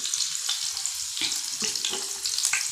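Tadka tempering sizzles in hot ghee on a gas cylinder stove for a mung daal, a continuous close frying hiss with a few stirring clinks and pops.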